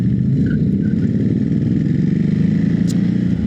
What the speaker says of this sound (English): So I bought the Ducati Hypermotard 950.